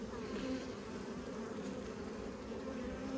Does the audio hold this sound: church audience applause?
no